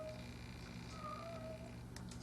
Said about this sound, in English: kitty's howling